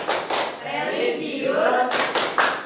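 Fourth-grade students in a classroom perform a PPK clapping chant, with sharp hand claps in a quick rhythmic pattern. Their chanting voices mix in with the claps.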